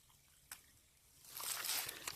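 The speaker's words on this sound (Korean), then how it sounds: "물이 졸졸졸" Clear, unpolluted mountain valley stream water trickling softly on rural land, a faint steady flow that swells into a brighter, louder babble in the second half with a few small splashy peaks.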